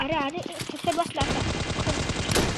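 Gunfire in the Scarfall mobile shooter game, a burst of rapid machine-gun shots rattling fast and dense over a second and a half, preceded by a man's excited speech.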